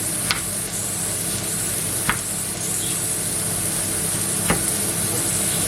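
Strips of meat being stirred in a hot frying pan, a steady close sizzle and crackle running throughout with three sharp scraping knocks of the utensil, no talking.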